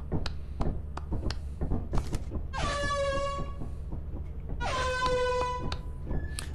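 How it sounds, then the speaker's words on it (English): Two long blasts of an air horn blown inside the ship in the video game Lethal Company, each a loud sustained harmonic honk of about a second and a half, separated by a short gap over a busy background of clicks and game noise. "My man's came straight into the ship and went straight for the air horn."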